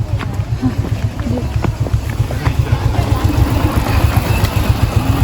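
A motorcycle idles on a steep, rough road in Ella, Sri Lanka, its low engine putter pulsing steadily and up close while people talk over it.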